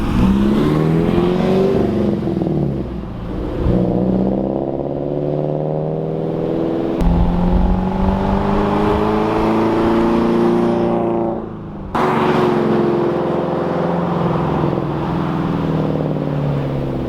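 A car fitted with an aftermarket Karma bodykit cruises along a city street, its engine a steady, close hum with harmonic tones that rise and fall as it accelerates, with a brief dip near the end.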